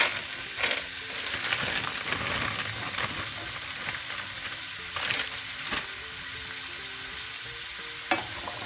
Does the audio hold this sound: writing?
no